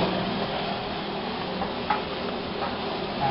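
Tomato frying in a pan for a Kerala-style chicken curry, a constant close sizzle broken by soft stirring scrapes and a few light utensil taps.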